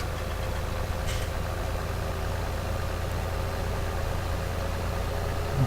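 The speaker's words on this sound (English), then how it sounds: "So this is for series 9 tractor I'm using here" Series 9 tractor engine in Farming Simulator 17 idling, a steady low rumbling drone that holds without change throughout.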